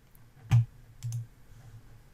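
A few sharp computer mouse clicks while working in PowerPoint, one crisp click followed by softer double clicks and a faint one at the end, in a quiet room.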